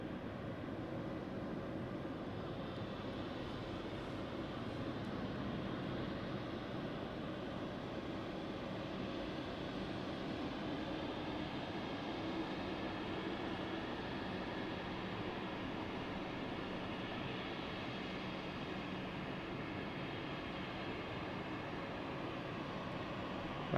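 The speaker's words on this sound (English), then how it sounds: "That's KLM flight 977 coming across from Amsterdam on an Embraer E190." A KLM Embraer E190 airliner arriving at London City Airport after a flight from Amsterdam, heard as a steady, broad jet roar that holds at an even level throughout with no voices over it.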